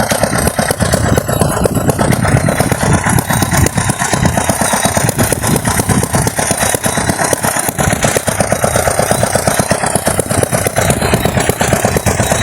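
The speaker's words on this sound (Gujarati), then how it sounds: "આમાં ડીઝલનું એન્જિન આવે છે." Diesel engine of a small farm power tiller running steadily at close range, a loud continuous mid-pitched chugging drone with no break and no voices.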